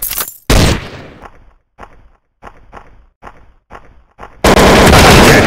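Gunfire in the Special Ops FPS shooting game: a loud opening blast, then a string of sharp single shots at an uneven rhythm, each echoing briefly, ending in a sustained loud burst of noise.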